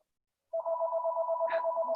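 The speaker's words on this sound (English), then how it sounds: "that's my other phone. We'll just leave it ring." A phone rings with a steady electronic tone that starts abruptly after a short silence and holds without a break, loud and close with nothing else over it.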